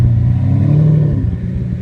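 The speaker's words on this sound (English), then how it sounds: "Check out how these exhausts and engines sound." Lamborghini engines and exhausts at a Cars & Coffee meet produce a loud, steady low rumble that swells briefly into a revving note, close to the microphone with no talking.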